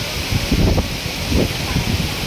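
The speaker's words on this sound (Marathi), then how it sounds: "बघा बघा हा नारळाच्या झाडांचा आवाज" Strong wind blowing through coconut palm trees outdoors, a steady broadband roar with gusty low buffeting bursts against the microphone throughout.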